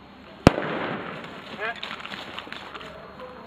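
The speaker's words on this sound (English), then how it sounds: "Watch out, grenade!" Grenade explosion outdoors: one sharp, sudden bang that dies away fast, followed by faint, scattered background noise.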